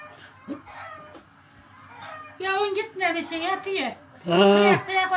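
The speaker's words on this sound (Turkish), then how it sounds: "Tavukları durulmuyor." Chickens cluck and a rooster calls in bursts close by, the fowl noises getting louder toward the end, with people talking in between.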